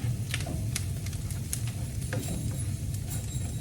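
A breakfast strata mixture sizzles steadily in a pan while being stirred, with a constant crackling hiss and scattered light scrapes of the utensil throughout.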